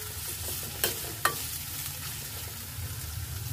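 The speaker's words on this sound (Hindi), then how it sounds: "तेल गर्म हो चुका है, हम प्याज को डाल दे रहे हैं। और इसे चलाते हुए अच्छी तरह से फ्राई कर लें।" Onions frying in hot oil in a pan for chicken Manchurian gravy, hissing steadily while a utensil stirs them, with two sharp scrapes or knocks against the pan.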